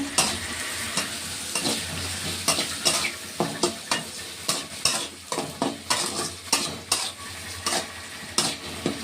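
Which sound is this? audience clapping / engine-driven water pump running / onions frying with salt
onions frying with salt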